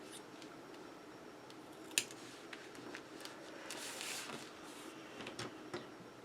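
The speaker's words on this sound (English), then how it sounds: "we will cut it off at the edge there" Scissors snip a paper strip on a Christmas 3D pop-up card, with soft close cutting and rustling and one sharp click, and no talk.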